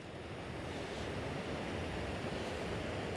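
Rushing water pours steadily through a salmon river falls pool, a dense, continuous broadband roar heard outdoors at moderate loudness with faint wind, no voices.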